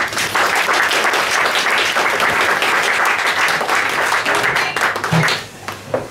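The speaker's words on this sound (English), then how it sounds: "please all give a round of applause for Sarah" An audience at a café science talk gives a loud, sustained round of applause for a speaker, with dense clapping that tapers off in the final second.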